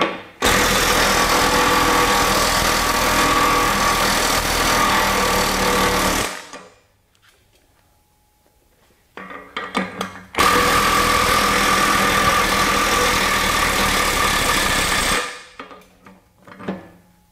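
Two long bursts from a RIDGID R86211 high-torque impact wrench removing nuts and bolts, each several seconds of loud continuous hammering, separated by a short pause with faint clatter and handling.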